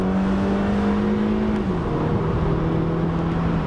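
Stock NC Mazda Miata with the top down pulls hard through a corner in second gear, a loud steady engine drone with a slight dip in pitch midway, then continuing strongly under load.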